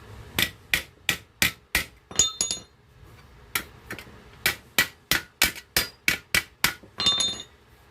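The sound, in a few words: hammering out a dent on a boat motor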